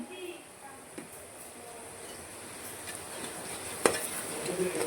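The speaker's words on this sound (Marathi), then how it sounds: "भाजून घेऊया मसाला भाजून झालेला आहे" Spice masala roasts in a pan for spinach dal, a faint soft sizzle with occasional light stirring taps, quiet and steady throughout.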